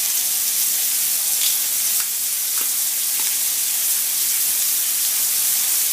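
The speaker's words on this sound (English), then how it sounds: "Deglaze that pan, turn it up a little bit." A pan of chicken is deglazed with Marsala wine over raised heat, giving a loud, steady, bright hiss and sizzle close by that runs unbroken throughout with a few faint pops.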